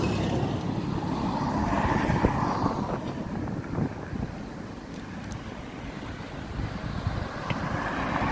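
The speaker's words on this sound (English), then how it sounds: "Traffic is active." Road traffic passing on a cool, windy Friday in the Lincoln Green area of the UK, a continuous broad roar of vehicles with gusting wind noise over the microphone and no one speaking.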